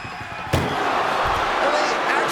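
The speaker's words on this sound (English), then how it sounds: "Trying to force the first door closed." An ambulance door forced shut during a wrestling match in the video game WWE 2K24 lands as a single loud metallic slam, followed by sustained crowd and game noise with talking over it.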